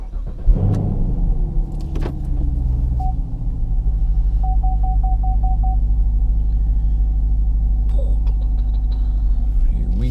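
Steady in-cabin engine drone and low road rumble from an American muscle car on a drive, loud and continuous, with a brief thump near the start and a short series of chime-like beeps; no talk.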